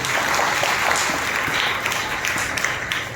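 A church congregation at a New Year service claps loudly together in a dense, sustained roar of applause that stays steady throughout.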